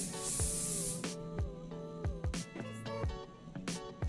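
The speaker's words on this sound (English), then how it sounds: "I'm gonna hairspray forward." Hairspray sprayed onto styled hair while working with a thermal heat brush, a long loud hissing burst at the start followed by quieter handling noises, with sharp clicks and brief hisses.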